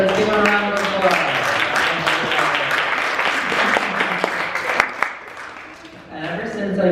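An audience at a Disability Pride Day open mic on a college campus applauds steadily for several seconds, dense clapping with cheering voices mixed in, easing off near the end as the speaker's voice returns.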